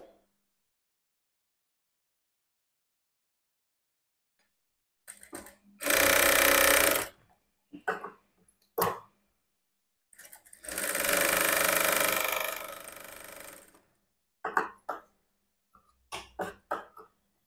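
A sewing machine stitches the shoulder seam of a blouse in two loud, steady runs of a couple of seconds each, separated by short mechanical clicks and knocks as the fabric is handled, with no talking.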